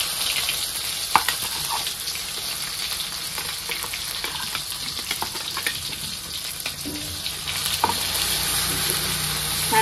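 Ground spice paste frying in hot oil in a wok after cumin, mustard seeds and curry leaves, for salted brinjal with drumsticks; a steady close sizzle runs throughout, broken by occasional sharp stirring scrapes and clicks.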